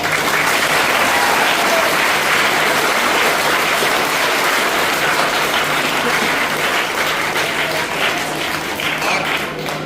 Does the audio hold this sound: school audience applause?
yes